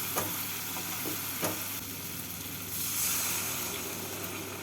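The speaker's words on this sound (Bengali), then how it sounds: "মশলাটা কষানো হয়ে গেছে এবার এর মধ্যে আমি দিয়ে দেবো হাফ কাপ জল" Half a cup of water poured into sizzling fried masala for a pabda fish curry, giving a close hissing burst of frying and stirring scrapes, with no speech.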